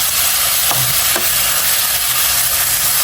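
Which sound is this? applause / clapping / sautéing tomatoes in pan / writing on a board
sautéing tomatoes in pan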